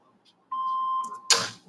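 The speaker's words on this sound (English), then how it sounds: "Please leave your name and phone number after the beep." An answering machine gives a single steady electronic beep lasting under a second, clear and close, followed by a short burst of noise as the recording starts.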